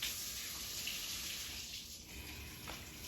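A kitchen tap runs in a steady, close stream of water to wet a hand while making French bread, a continuous loud gush with no talking.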